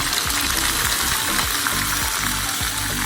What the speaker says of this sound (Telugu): ఆయిల్ వేసుకొని పచ్చిమిర్చి వేసుకోవాలి.